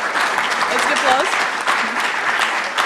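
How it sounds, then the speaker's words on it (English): Audience applause for a panelist at a conference opening session, steady dense clapping from a room full of people with some talk mixed in. "Let's give applause."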